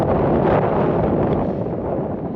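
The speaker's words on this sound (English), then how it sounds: "all you guys can hear is wind" Steady, loud wind buffeting a microphone while riding through New York City at night on a food delivery run, a dense continuous rumble with no break and no voice audible.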